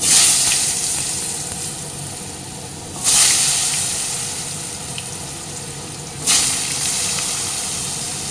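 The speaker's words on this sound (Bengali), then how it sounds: "তেল গরম হয়ে গেছে আলুটা ভেজে নেব" Potatoes hitting hot oil in a home kitchen pan, a loud hissing sizzle that bursts up three times as more pieces go in, then settles into a steady fry.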